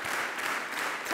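A congress audience applauds before a party leader's speech, a steady broadband patter of many hands clapping at moderate level throughout, with a brief louder swell at the very end.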